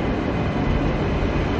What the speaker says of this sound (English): NGR train coming in, this time with the big windows clean, clear